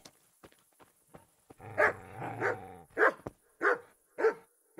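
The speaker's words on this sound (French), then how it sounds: "Alors, petit chien, on va tester." Dog barking in the medieval video game Kingdom Come: Deliverance: a drawn-out whining growl followed by three sharp, evenly spaced barks, close and fairly loud, with no talking over it.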